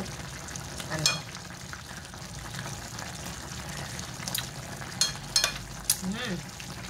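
Espada fish adobo simmering in a pan, a continuous close bubbling and sizzling bed with occasional stirring scrapes and a few brief clinks toward the end, no clear talking over it.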